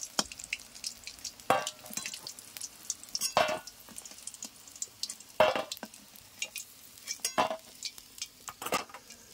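Chicken pakoras frying in hot oil in a village kitchen, a quiet bubbling sizzle punctuated by several sharp clinks and scrapes of a utensil against the pan, no talking.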